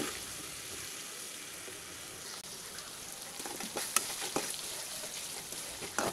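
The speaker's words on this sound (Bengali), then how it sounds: "মাছের তেল ভালো মতো গলে গেলে তাতে আমরা কেটে রাখা পরিমাণ মতো পেঁয়াজ দিয়ে দিব।" Sliced onions hit melted fish oil for a pangas bhuna curry and sizzle softly in a pan, a faint, even hiss with a few scattered pops and stirring clicks.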